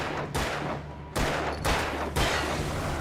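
Gunfire in the Alan Wake video game: three sharp, loud shots spaced about a second apart, each leaving a short rumbling decay, over a faint low hum.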